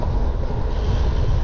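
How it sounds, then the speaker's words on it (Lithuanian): Strong wind roars across the microphone while riding on a long trip toward Nordkapp, a loud, steady rumbling buffet with no voices. "Čia jau yra stipriausi vėjai, per kokius esu važiavęs."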